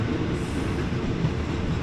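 Ordinary passenger train 259 on the Taling Chan to Salaya line rumbles along steadily, heard from inside the carriage as a continuous close roar with no talking.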